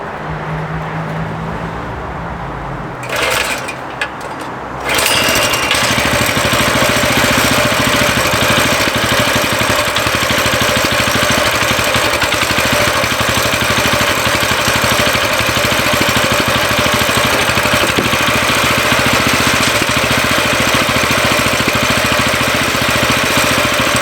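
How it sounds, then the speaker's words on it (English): A Coleman CT200U mini bike engine takes a few short pulls and sputters, then catches and settles into a loud, steady, close-up idle that runs unbroken to the end. "So we're going to fire it up right now."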